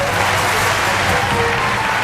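Cheering and applause from a sold-out, costumed crowd at a Friday night Halloween-themed live event, a dense, steady roar of clapping and voices that stays loud and unbroken throughout.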